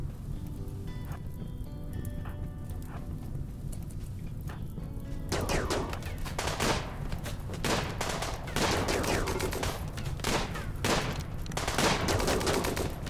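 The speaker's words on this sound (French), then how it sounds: "Ça, c'est le fusil à impulsion" A pulse rifle fires in the RimWorld colony game, rapid crackling bursts and volleys starting about halfway in after a quieter stretch of low tones and soft background sound.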